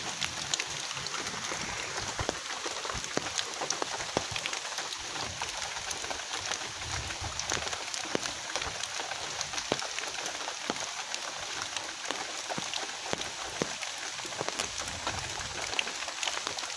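Rain falls during a fishing outing, making a steady, dense hiss with scattered sharper drop taps throughout.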